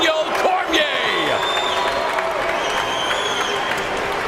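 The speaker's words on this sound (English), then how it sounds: "Cormier's family and friends on their feet, clapping for his performance here tonight." An arena crowd applauds and cheers after a Strikeforce heavyweight Grand Prix final, a thick, continuous wash of clapping and whoops, with a commentator's voice talking over it.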